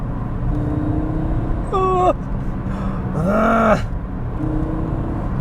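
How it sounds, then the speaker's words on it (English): A restored Audi Coupe GT engine is revved with quick throttle blips on heel-and-toe downshifts, giving two distinct rising-and-falling rev sweeps over a steady engine drone. "Beautifully responsive throttle for a little bit of heel and toe, blipping your downshifts"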